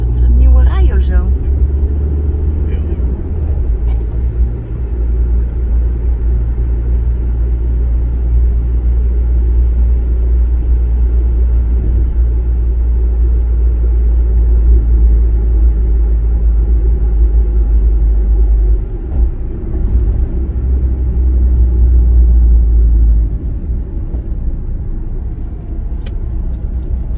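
Steady low engine rumble inside a stationary car, loud and continuous for most of the stretch, with occasional faint voices and small interior knocks; the rumble drops away briefly near the end.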